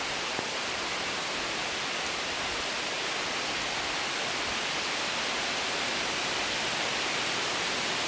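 Dense, even hiss of artificial rain falling, like spray from sprinklers, continuous and uniform for several seconds with no voices.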